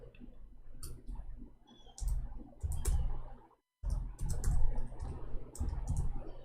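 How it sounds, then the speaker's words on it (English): Quick bursts of typing on a computer keyboard, with clustered clicks and taps, one short silent gap midway, then more rapid keystrokes, fairly close and moderately quiet. "We are typing in English"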